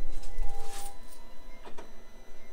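A Risograph printer running during a print job, giving a steady mechanical hum with whirring and sliding sounds that swell and fade over a couple of seconds, close by with no talking.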